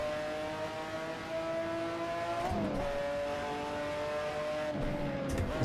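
A McLaren F1 GTR race car engine in the racing game Assetto Corsa drones steadily at high revs, its pitch dipping briefly on a gear change and then climbing again, close and continuous with no talking.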